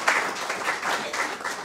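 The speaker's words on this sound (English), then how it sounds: "Give him a round of applause." Evening awards audience gives a round of applause for a town mayor, a brief burst of many hands clapping in uneven pulses, moderately loud and close.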